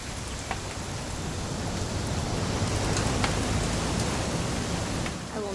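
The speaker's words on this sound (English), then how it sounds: "It's gonna rain the whole weekend, isn't it?" Steady rain falling in the video game What Remains of Edith Finch, a dense even hiss with scattered drops, fairly loud and continuous with no speech.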